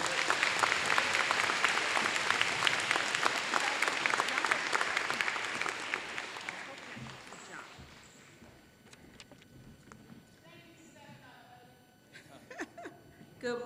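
Loud, full crowd applause greets interim superintendent Teresa Neal at a school scholars event, thinning out after about seven seconds into scattered claps and quiet room sounds with some voices.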